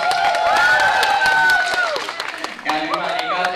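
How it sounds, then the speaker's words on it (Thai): Wedding guests clap and cheer loudly at close range while voices talk and call out over the applause. "ขอเสียงปรบมือเลยค่ะ"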